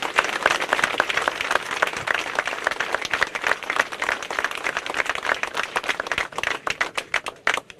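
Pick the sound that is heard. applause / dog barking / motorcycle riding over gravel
applause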